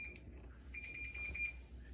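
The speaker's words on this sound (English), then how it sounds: "it keeps on beeping." Several quiet electronic beeps in a short run, high-pitched and evenly spaced, from a Bosch tumble dryer showing error code E56, against a low background hum.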